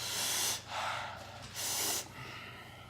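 A person exhales forcefully through the nose twice in breathy, hissing bursts, close and fairly quiet, during a hot nut eating challenge.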